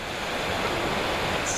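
Floodwater from a burst water main rushes in a steady, broadband roar, unbroken and moderately loud throughout.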